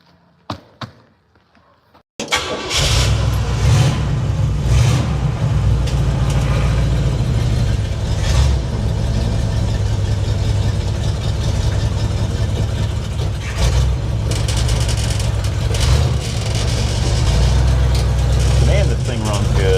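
A 1958 Plymouth V8 starts after a quiet moment and settles into a loud, steady idle with a lumpy low throb that carries on for the rest of the clip.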